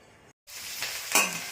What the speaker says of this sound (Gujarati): સૂકી ભાજીનો વઘાર થાય છે.